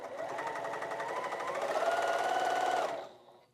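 A bernette 08 straight-stitch sewing machine sews through multiple fabric layers with heavy upholstery thread, a close, steady rapid whir that rises slightly in pitch and then cuts off abruptly.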